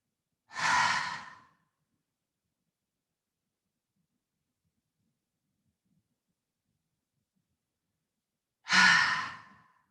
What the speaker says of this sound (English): Really throw the air out from the abdomen. Inhaling through the nose. Exhale.